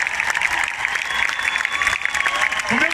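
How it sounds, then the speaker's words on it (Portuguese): Concert audience at a show during the Marinha Grande city festival applauds steadily, a dense wash of clapping and crowd noise lasting throughout at moderate loudness. "E batam palmas a vocês próprios."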